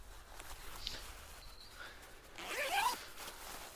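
Back zipper on a Onewind bridge hammock storage bag being opened, a short faint pull near one second, then a longer, louder rasping unzip, close and alone with no talk.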